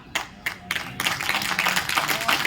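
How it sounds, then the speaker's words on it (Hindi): Scattered claps from a crowd at a poetry gathering in Kanpur, starting as a few sharp hits and building into steady, moderate applause. "तालियां कमजोर हैं"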